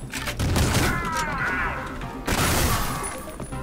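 A loud gunshot blast in the retro shooter Ion Fury, followed by crashing, shattering impact debris, then a second sharp burst of fire and more clattering wreckage.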